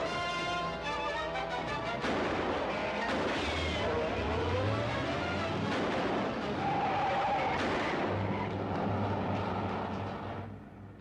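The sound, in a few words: car starting and driving off with skidding tyres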